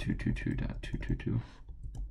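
Computer keyboard being typed on in a quick run of close clicking keystrokes for about a second and a half, then a couple of sparse taps, with faint background hum.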